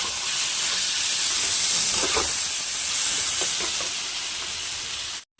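Taro leaves frying in a pan for a Bengali kachur shak dish, giving a steady loud sizzling hiss that runs unbroken for several seconds before cutting off abruptly at the end.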